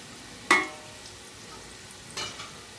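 Ground turmeric, chilli, cumin, pepper and roasted coriander are stirred into a pan of fried onions over low heat, giving two short scraping strokes, the first sharper and louder, over a faint steady sizzle with no voices.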